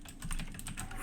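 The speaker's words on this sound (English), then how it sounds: "Fucking mechanical keyboard." Rapid keystrokes on a mechanical keyboard, a quick run of sharp clacks close to the microphone over a low background hum.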